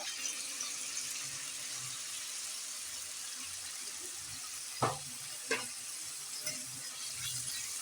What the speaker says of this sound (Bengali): এবার দিয়ে দিচ্ছি কাজু বাদাম আর পোস্ত পেস্টটা